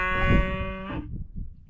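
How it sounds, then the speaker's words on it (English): A cow in a Mexican white-tail deer hunting area gives a long, drawn-out moo with a tonal, buzzy quality that lasts about a second and then cuts off. Low rustling outdoor noise continues after it. "cow."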